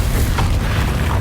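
A Bombarda blasting spell explodes in Hogwarts Legacy, one brief deep booming burst with heavy low rumble filling the whole short moment.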